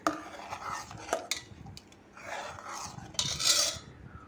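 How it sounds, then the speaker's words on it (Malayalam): A spoon scrapes and clinks against a pot as bottle gourd curry is stirred, in a few uneven strokes with brief metallic knocks. "മിക്സ് ചെയ്ത് കൊടുക്കാം"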